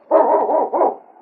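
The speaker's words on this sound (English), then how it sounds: "It's Yukon King, swiftest and strongest lead dog of the Northwest" A husky lead dog for a sled trail in the Northwest gives a loud, close, deep bark that carries into a second bark straight after it, alone with no other sound, as in a radio adventure drama.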